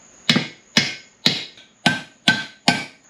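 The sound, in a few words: hammer and chisel banging out bushing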